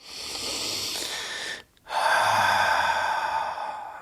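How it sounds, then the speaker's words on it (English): During a yoga session a person takes a long, deep breath in through the nose and then breathes out through the mouth, with an airy, close breath sound and a short pause between the inhale and the steady exhale. "Take a nice big inhale through your nose and exhale out your mouth"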